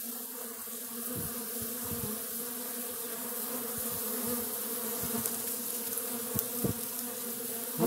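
A dense, steady buzzing of a honeybee swarm close by at a tree, with occasional louder passes of individual bees, continuous throughout without any talking.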